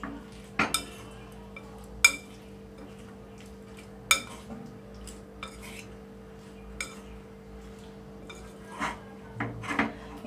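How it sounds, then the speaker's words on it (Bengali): A spoon scrapes and knocks against a bowl as lightly steamed cauliflower florets are stirred into pakora batter, giving sporadic clinks and rubs over a low, steady hum. "এবার আবার ভালো করে নাড়িয়ে নেব।"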